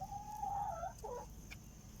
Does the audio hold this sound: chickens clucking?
yes